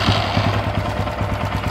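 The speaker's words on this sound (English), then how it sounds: "Kind of a low idle," KTM motorcycle engine idling low, a close, steady rapid thumping pulse with even rhythm throughout, alone with no talking.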